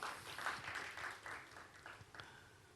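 A church congregation claps in praise to God during an Indonesian sermon, a broad wash of many hands forming steady applause that swells in waves and gradually thins toward the end.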